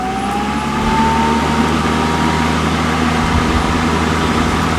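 A Toro Super Recycler lawn mower engine runs close and loud with the blade spinning, a steady dense drone with a faint rising whine and no pauses.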